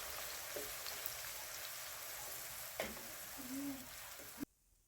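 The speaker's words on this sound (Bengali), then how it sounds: "এরপর এই পেঁয়াজ বাটাগুলোকে আমি ততক্ষণ ভেজে নিব যতক্ষণ না পর্যন্ত পেঁয়াজের কাঁচা গন্ধ দূর হয়ে যায়।" Onion paste frying in a pan while a chicken curry is cooked, a steady faint sizzling hiss with a few soft scrapes and taps, cutting off abruptly near the end.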